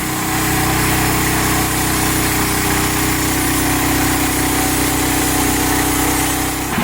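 A Hud-son Patriot sawmill runs steadily while cutting a log, a loud, continuous small-engine drone with a constant hum and no clear change through the cut.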